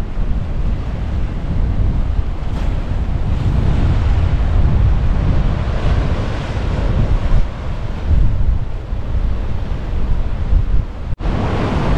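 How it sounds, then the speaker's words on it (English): Deep ocean surf washes in at a beach in Cape Le Grand National Park near Esperance, a continuous low rumble of waves mixed with strong wind buffeting the microphone. "And then you've got this deep water ocean."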